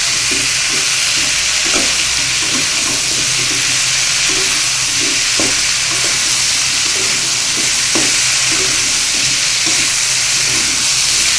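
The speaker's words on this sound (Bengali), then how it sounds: "এবার ভালোভাবে মিশিয়ে নেব।" Salt and turmeric being stirred into a hot frying pan of vegetables for fritters, a steady loud sizzle with repeated scraping strokes of a spoon throughout.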